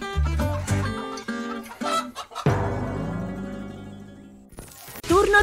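People imitate hens with voiced clucking and squawking calls, several short bursts followed by a longer drawn-out squawk and another burst at the end, loud and close.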